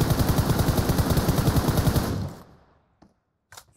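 Sustained rapid machine gun burst in PUBG Mobile, loud and close with a steady rattling rhythm for about two seconds, then cutting off, followed by a couple of faint distant shots.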